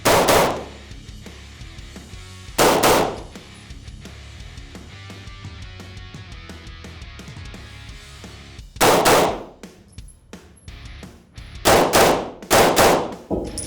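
Pistol shots ring out at night, loud and sharp, with a pair of single shots early on, then a tight cluster of rapid shots later, separated by quiet gaps.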